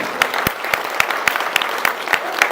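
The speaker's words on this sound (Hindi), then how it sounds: "अपने लिए तालियां बजाएं पहले, सबसे पहले प्लीज दिल से" Audience clapping at a poetry gathering, a close, loud spread of hands punctuated by sharp individual claps standing out at a fairly regular beat.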